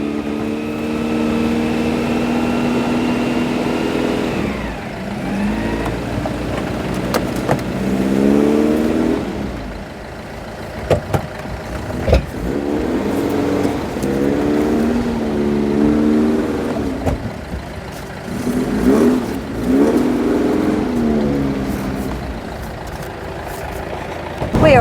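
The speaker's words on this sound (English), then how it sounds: "The rail has been put back in place and she's been jump started and she's off." Giselle, a vehicle just revived with a jump start, runs with a loud close engine drone that rises and falls through several revs, steady and alone without talk.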